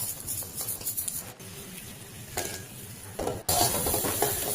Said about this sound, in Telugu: సో ఎగ్స్ మంచి హాఫ్ బాయిల్ కాగానే అందులో సాల్ట్ వేసేసుకొని మిక్స్ చేసేసుకోవాలి.